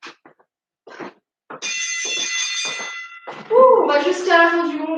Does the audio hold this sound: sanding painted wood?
no